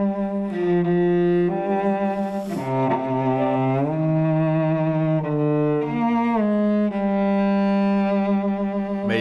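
A theme from the Detroit: Become Human soundtrack, with a two-syllable melodic motif built on her name gliding over sustained harmony in clear, loud phrases, purely instrumental.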